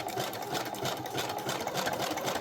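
A sewing machine back-stitches through paper at a 3.5 stitch length, giving a close, steady rapid mechanical chatter from start to finish, with no talk.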